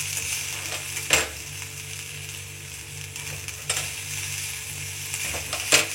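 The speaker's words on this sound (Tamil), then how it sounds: "அது வரைக்கும் நல்லா நம்ம வதக்கணும். தேங்காய் எண்ணெய் தான் விடணும்" Chopped fenugreek leaves sauté in coconut oil with a steady, soft sizzle, broken by a few faint clinks and scrapes of stirring.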